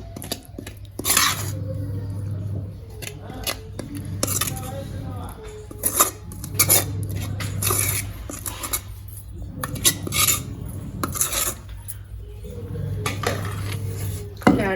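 Frying tomatoes with green chilies are pressed and mashed in a pan for pickle, heard as repeated clanking, scraping and squishing strokes in uneven bursts, fairly close.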